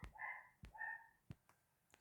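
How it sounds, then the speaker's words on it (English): A dog barks twice in quick succession indoors, moderately loud, followed by a few soft knocks and quiet room noise with no talking. "try and shut that dog up"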